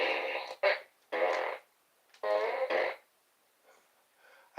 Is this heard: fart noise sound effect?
yes